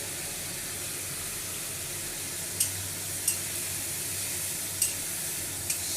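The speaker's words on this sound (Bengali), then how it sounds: "সব রকম মশলা দিয়ে আমি এবার বেশ কিছুক্ষণ কষিয়ে নেব" Spices, ginger, cumin, coriander, chili and tomato sizzle steadily as they are sautéed in a pan for a Bengali potato curry, a constant close hiss broken by a few faint clicks of stirring.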